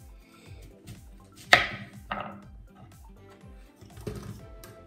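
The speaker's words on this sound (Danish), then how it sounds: "Og nu skal vi hakke den her kæmpe løg." A knife chops through a large onion on a board in a kitchen, with several sharp, close cuts standing out over a quieter rhythmic background of kitchen activity.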